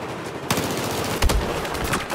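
An MP7 submachine gun fires in Battlefield 4 in short rapid bursts of sharp, loud cracks over constant game background noise, with no talking.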